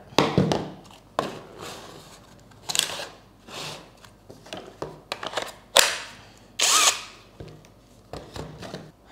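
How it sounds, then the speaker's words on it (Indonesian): A Bull BL26Li cordless brushless impact drill runs freely without load in a series of short and longer whirring bursts, close by, separated by brief pauses. "selanjutnya kita akan uji untuk RPM-nya ya, putaran tanpa beban"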